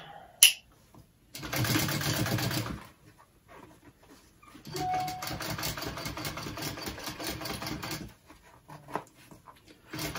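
Sewing machine top stitching a backpack, running in two steady mechanical bursts separated by quiet pauses, close and moderately loud, with small handling clicks around them.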